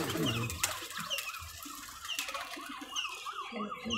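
Giribaj highflyer pigeons coo in a pigeon keeper's collection in Rajshahi. Soft, repeated cooing and rustling sit close by, with faint voices in the background.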